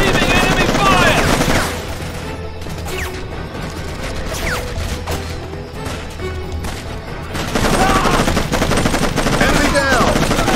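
Sustained bursts of enemy machine-gun fire in the PC shooter Raven Squad, loud and continuous with rattling volleys, crashes and a swell of heavier firing near the end.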